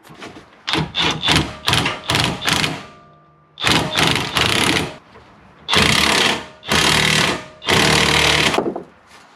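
Power tool driving screws into a coilover bracket on a 2008 Acura TSX during a Maxpeedingrods coilover install: a rapid series of short, loud buzzing bursts, then several longer sustained whirring runs, close by with no talking.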